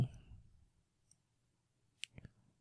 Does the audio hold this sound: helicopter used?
no